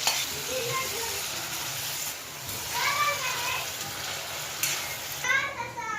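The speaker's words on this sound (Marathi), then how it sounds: "तेलामध्ये फ्राय करून घेते" Goat liver and fat frying in oil for a kaleji fry, a steady sizzle with occasional stirring, with people and children talking in the background.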